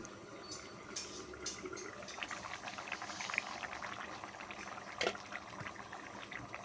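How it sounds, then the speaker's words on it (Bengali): Country chicken and potato curry broth boils in a pot, a steady close bubbling and simmering with a few light clinks and no talking. "ঢাকনাটা খুলে দেখি গিয়ে একেবারেই ঝোলটা ফুটছে"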